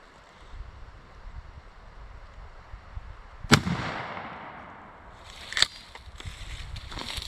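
A shotgun firing a Federal Grand Slam 3-inch 6-shot turkey load outdoors: one loud, sharp blast with a rolling tail over faint wind, followed by a few lighter clicks and knocks.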